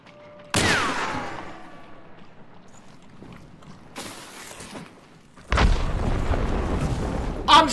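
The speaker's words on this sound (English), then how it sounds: "The fire into instant dynamite trap is the biggest load of bullshit." A dynamite trap exploding in Hunt: Showdown, a sudden loud blast with a long ringing decay, followed by further bursts of noisy rumbling and crackling later on.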